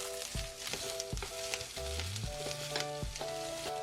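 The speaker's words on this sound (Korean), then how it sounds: "마늘쪽 넣고 살짝 간이 있어야 맛있으니까 소금 두 꼬집 살짝 넣고 중불 7에서 1분간 가볍게 볶아주세요" Garlic scapes stir-fry in a preheated pan with a little cooking oil and two pinches of salt over medium heat, a steady close sizzle broken by repeated clinks and scrapes of stirring, with no talk.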